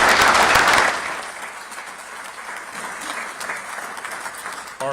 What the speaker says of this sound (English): Let's give them all a great round of applause for the state.